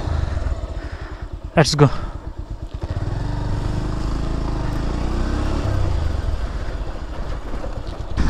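A Bajaj Pulsar motorcycle starts with a short cranking burst, then settles into a loud, close, steady rumbling idle as the rider prepares to pull away; a voice speaks briefly over the engine.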